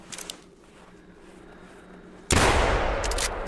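A loud gunshot blast in the hunting video game theHunter Classic erupts suddenly partway through, its wide boom lingering after a quiet stretch of faint outdoor ambience.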